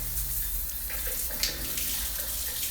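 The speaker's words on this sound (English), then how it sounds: "Shower head held is working." Water streams steadily from a handheld shower head on a newly installed bath mixer, a constant hissing splash that runs unbroken and close.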